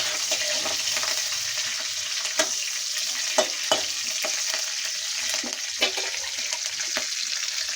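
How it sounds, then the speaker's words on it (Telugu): Green chillies and curry leaves fry in a pan with a continuous bright sizzle and crackle, broken by scattered sharp pops and light stirring scrapes, close and fairly loud throughout. "నెక్స్ట్ పచ్చిమిర్చి వేయండి, తర్వాత కరివేపాకు వేసుకొని కాస్త ఇలా ఫ్రై చేసుకోండి"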